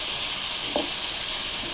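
Ivy gourd frying in coconut oil with salt and being stirred, giving a steady, close sizzling hiss with one brief soft scrape of stirring midway, and no talk.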